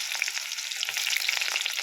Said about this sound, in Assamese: কেৰাহীখন পাতি তেল গৰম হ'বলৈ দিলোঁ আৰু লগতে মই পিঁয়াজ দি দিছোঁ